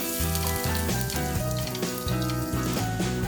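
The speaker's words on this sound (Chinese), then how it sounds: "把洋葱倒入" Onions fry in oil for a seafood curry rice, a soft continuous sizzle heard close, with steady musical tones playing over it.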